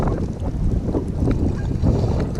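Strong wind blowing during a Nebraska blizzard while fishing, a loud low buffeting rush against the microphone that continues without pause.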